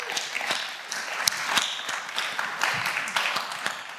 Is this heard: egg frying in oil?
no